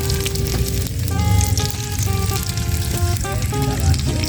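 Sliced cucumber frying with sambal, garlic and shallots in hot oil, a loud close sizzle with bubbling crackle and a few clinks of a utensil against the pan.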